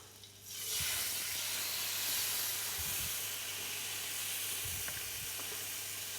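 Marinated swordfish sizzles loudly on a hot ridged grill pan with no added fat, a dense, steady hiss that bursts up as the pieces go down and keeps going with a few soft knocks.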